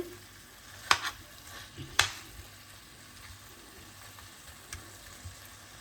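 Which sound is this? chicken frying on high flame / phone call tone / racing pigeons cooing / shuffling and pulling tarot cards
chicken frying on high flame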